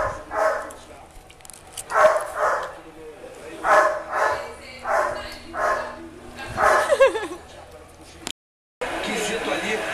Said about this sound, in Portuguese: O cachorro tá latindo